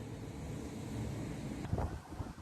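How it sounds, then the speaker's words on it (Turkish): Strong wind blows outdoors near the Süleymaniye Mosque in Istanbul, a loud, steady roar battering the microphone with a rising gust near the end and no talking. "dışarıda çok yoğun bir rüzgar var"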